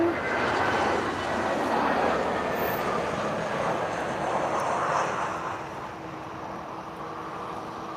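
A Boeing 767-300 twin-engine jet roars at Lisbon Airport in the evening, a broad sustained rumble with a faint whine that eases and recedes after the midpoint.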